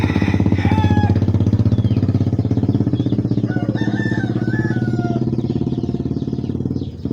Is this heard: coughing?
no